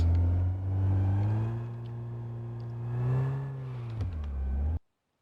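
An old Chevy drives by with its engine humming low and steady, revving up and easing off twice, close and fairly quiet, before it cuts out.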